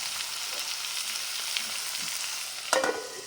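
Ash gourd pieces sizzle steadily in a hot pan as salt is stirred in. A constant close frying hiss runs throughout, and a louder scrape of the spoon comes near the end.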